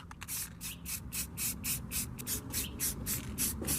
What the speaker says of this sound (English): And now I'm going to paint all the smaller trims.